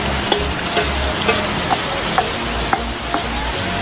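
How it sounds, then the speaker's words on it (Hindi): Marinated chicken fries in a kadhai with a steady, even sizzle, broken by a few light ticks and clinks of stirring, close and alone. "अब हम इसमें मैरिनेट किए हुए चिकन डाल देंगे।"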